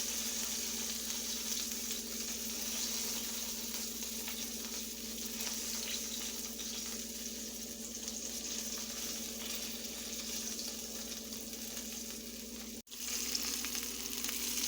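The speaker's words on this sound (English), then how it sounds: "so you can see what the squash is looking like while it's frying" Sliced squash fries in a frying pan with a steady, even sizzle that continues for the whole stretch, close up and alone, with one brief clatter near the end.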